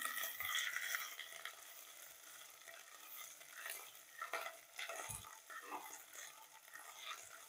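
Spice paste for dill (shepu) bhaji frying and being stirred in a pan, with a steady close sizzle and intermittent scraping strokes of a spoon against the pan.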